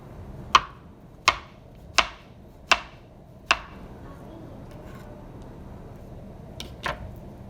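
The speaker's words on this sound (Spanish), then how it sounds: "voy a cortar el plátano, que también voy a ocupar un pedazo. Y se rebana" Knife cutting a plantain on a board, five crisp evenly spaced chops close up, then a pause and two softer cuts, with no one talking.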